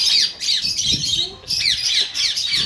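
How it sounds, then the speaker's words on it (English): Peacocks on a farm squawk loudly and repeatedly, with several harsh, nasal calls close by and in quick succession, set against faint outdoor background noise. "That's a peacock there."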